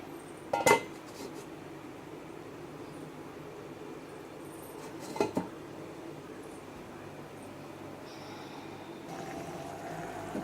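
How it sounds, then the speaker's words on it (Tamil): A metal lid set onto a cooking pot of mutton keema gives two brief clanks, one near the start and one midway, over a quiet background of low kitchen noise, no talk. "மூடி போட்டு"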